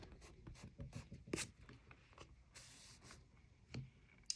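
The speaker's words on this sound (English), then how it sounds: "I'm just going to erase those" A pencil eraser rubs across paper to clear guide lines from a mandala drawing, giving soft, close scratchy strokes in quick irregular bursts with brief pauses between them.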